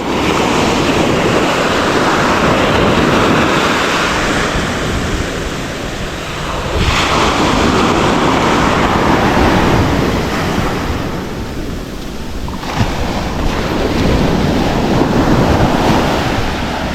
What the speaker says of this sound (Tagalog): dahil sa lakas ng alon